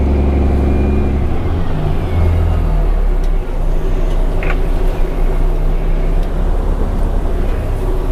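Cars arrive near a job site, a steady low engine rumble and road noise rolling on close by, with a heavier engine drone fading out early on.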